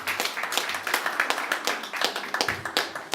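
A church congregation claps together at a memorial thanksgiving service, fast rhythmic handclaps in a steady lively beat, moderately close.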